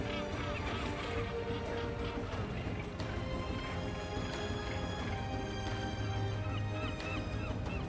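Seagulls and other seabirds call over the sea off Arrábida, Portugal, while feeding on fish scraps: repeated honking, squawking cries in a dense flock, moderately close, over steady water and wind noise.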